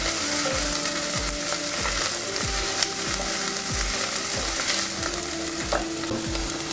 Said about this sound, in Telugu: అల్లం వెల్లుల్లి పేస్ట్ పచ్చివాసన పోయే వరకు కొద్దిగా వేపాలి.